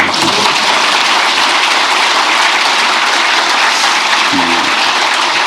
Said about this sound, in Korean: 이럴 때 박수도 한번 하세요.